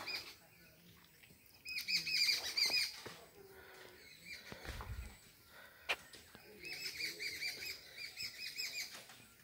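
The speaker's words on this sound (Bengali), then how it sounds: "চতুর্দিকে পাখির ডাক শুনতে পাচ্ছেন আপনারা" Birds calling all around in the hill forest at Laouchapra, Jamalpur, Bangladesh, bright chirps and twittering from several directions, near and far, with a soft thud and quiet rustling between calls.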